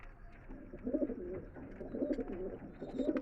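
Pigeons coo softly and repeatedly from wholesale cages at the Rajarhat market, a faint rhythmic murmur of overlapping calls close by.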